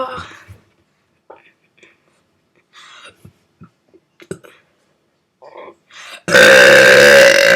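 A loud, long burp ends the clip after several seconds of quiet whispering and small breathy sounds, close to the microphone.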